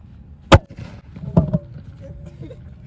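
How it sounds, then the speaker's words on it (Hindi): Two sharp bangs from a toph firecracker, one loud and one slightly softer about a second later, followed by crackling and faint background voices. "तोफ में तोफ चलने की आवाज़"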